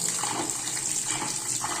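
A new saree is rinsed in half a bucket of water. The steady, close sloshing and gushing lasts the whole short stretch, with no voices.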